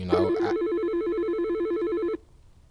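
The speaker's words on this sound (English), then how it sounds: "the phone rings" A telephone rings on the line of a call-in talk show: a loud, steady warbling electronic ring that repeats for about two seconds and then stops abruptly. It follows a brief snatch of voice at the start.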